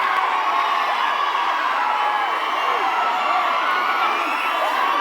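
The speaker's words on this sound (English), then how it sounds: "the biggest loud cheering that happened was just a thanks to an actor that comes in the initial credits and the theater went wild" A packed cinema audience at a film premiere in Hyderabad cheers, whoops and shouts together in a dense, continuous roar with no pauses.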